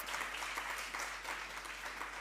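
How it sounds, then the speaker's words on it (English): A large audience at an International Day for Disaster Risk Reduction panel discussion claps steadily in a dense, even round of applause that holds at a constant level throughout, with no voices standing out. "just a special round of applause, please, for some of our distinguished members"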